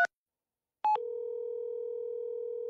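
A phone call is dialled in a Chinese crime audio drama: a brief beep, a short pause, then a steady ringback tone that continues at moderate level with no voices.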